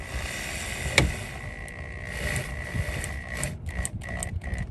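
A power screwdriver driving screws into a plastic EMP rear diffuser on a 2024+ S650 Mustang, giving a steady whirring motor buzz with a sharp click near the start and a few short bursts toward the end, with no talking.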